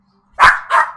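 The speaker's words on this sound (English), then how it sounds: "Stop barking." A dog gives two quick, loud, close barks in succession, each short and sharp, after a moment of near silence.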